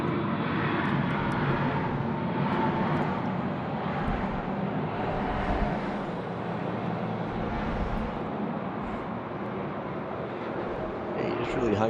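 A fixed-wing airliner lands at Sydney Airport and holds in the flare. Its engines make a steady, moderately distant roar with a faint rise and fall, while voices talk quietly underneath.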